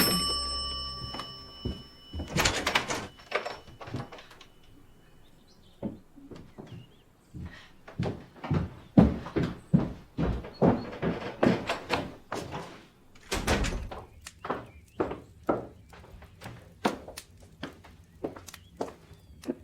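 A doorbell chimes at the start of a period drama scene, then a long string of clacks, thuds and shuffling steps follows as a door is opened, fairly quiet with no talk.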